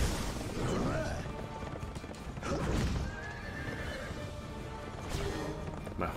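Several loud horse whinnies ring out in bursts in the video game Berserk, with clip-clop hooves and scattered game-like impacts in the background.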